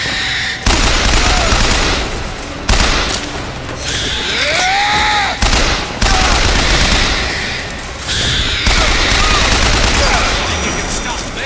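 Loud, rapid bursts of gunfire in a Bioshock Infinite firefight, with mechanical weapon clatter and booms coming in repeated waves; shouted voices cut in between the volleys.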